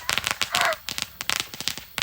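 A fireworks cake fires a rapid string of sharp bangs and crackles at an irregular rhythm, close and loud, with a whistling streak partway through.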